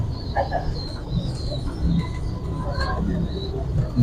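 Breeder pigeons cooing in a loft in Rawalpindi, soft, low throaty coos and a few faint chirps repeating over steady background noise, with someone talking at times.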